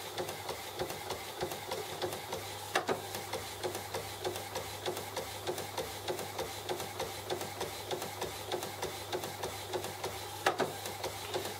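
An Epson WF-7210 inkjet printer printing on matte paper, a steady rapid mechanical chatter with rhythmic head passes and a couple of louder clunks, heard alone at low level.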